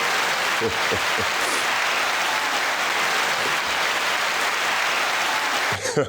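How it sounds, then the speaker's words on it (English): Recorded applause sound effect of a large crowd: a continuous, dense roar of clapping held at a steady loud level throughout, with a faint voice near the start and a brief break at the end. "That's a 90-second applause."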